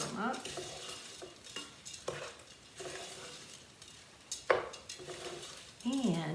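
Rinsed lentils stirred in a soup pot, giving irregular scraping and clinking strokes with soft wet shuffling, moderately close, and a few brief utensil knocks against the pot.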